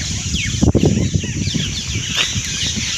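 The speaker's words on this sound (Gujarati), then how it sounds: "તમે સાંભળતા જ હશો પક્ષીઓનો કલરવ" Birds chirping in a temple garden among old neem trees, with a few thin calls heard over a loud, rumbling outdoor background and scattered bumps and handling noise.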